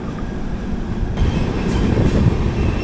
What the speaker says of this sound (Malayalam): ധോൺ ഗുണ്ടൂർ പാസഞ്ചർ, ധോൺ ഗുണ്ടൂർ എക്സ്പ്രസ് ആണ് സാധനം.